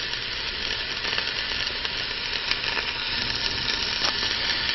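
Minced garlic and a medium diced onion sizzle steadily in a soup pot, a continuous close frying hiss with faint crackles and occasional stirring clinks, no voices over it.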